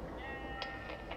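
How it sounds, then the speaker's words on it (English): Goats bleat in a scene of the video game Beyond Two Souls, a couple of short faint calls rising over a dense, noisy game soundscape. "The goats are amazing in the scene."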